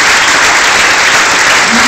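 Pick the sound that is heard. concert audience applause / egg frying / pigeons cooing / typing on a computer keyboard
concert audience applause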